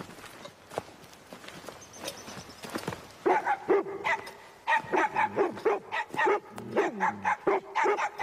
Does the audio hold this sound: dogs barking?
yes